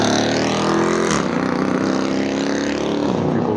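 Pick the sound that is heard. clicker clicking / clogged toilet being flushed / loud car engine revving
loud car engine revving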